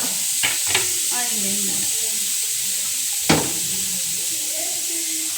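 Onions dry-frying in a pan with no oil for a hotel-style chicken sukka give a steady, close sizzling hiss, broken by a few sharp utensil clinks and scrapes, with faint background voices.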